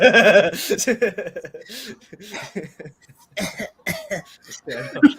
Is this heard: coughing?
yes